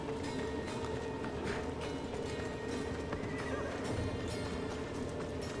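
A horse in the video game Assassin's Creed Odyssey neighs over continuous clip-clopping hooves, steady and prominent throughout with no talking.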